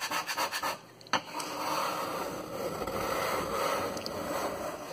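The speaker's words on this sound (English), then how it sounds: "I just use the bottom here, and I just scrape it, just like that" A straight metal edge scraping gunk off a wooden cutting board, a few short rubbing strokes followed by a long, steady, close rasping scrape that runs on without pause.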